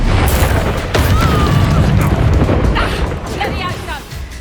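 Booming spell blasts from Confringo and Bombarda in the Hogwarts Legacy video game, loud crashing impacts layered under dense battle noise and game audio.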